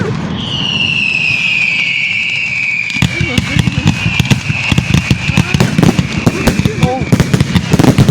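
Fireworks burst on bonfire night: a whistling rocket streaks upward, then a rapid barrage of loud cracks and pops fires in dense, irregular volleys, with excited voices reacting in between.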